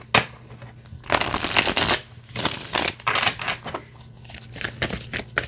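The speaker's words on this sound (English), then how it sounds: "They shuffle fine though." Tarot cards being shuffled by hand, a deck with fresh cardstock, giving repeated crisp riffling bursts that come close and fairly loud, with short pauses between shuffles and no talking.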